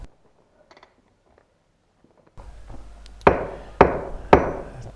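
Four loud, ringing metal hammer blows strike the hub of a Valmet 911.3 forestry machine bogie, spaced about a second apart after a quiet start and a low mechanical hum.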